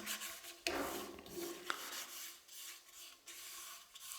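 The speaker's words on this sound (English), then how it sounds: "we're going to spread it as thinly as we can" Cloth spreading microcrystalline wax thinly over a wood turning, heard as soft, repeated rubbing and swishing strokes with a few sharper scuffs, close and quiet.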